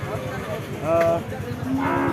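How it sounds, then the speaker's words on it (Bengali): A Friesian dairy cow at the Chougachha cattle market in Jashore lets out a loud, drawn-out moo, followed by a second lower moo, against busy market background noise. "আর একটা গাভী গরু দেখতে পাচ্ছি"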